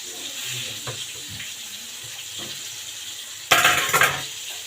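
Tap water runs steadily from a kitchen faucet as hands are washed beneath it, a continuous close hiss that swells into a louder splashing burst near the end. No one speaks.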